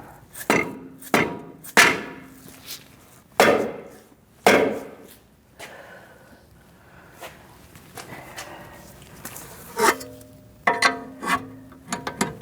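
A front wheel bearing hub on a 2008-2014 Mercedes-Benz C300 being tapped into place, with a handful of sharp, close metallic knocks spaced irregularly, then a later cluster of lighter taps and handling clatter, no speech.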